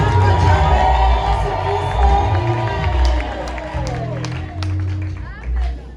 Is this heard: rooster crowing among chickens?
no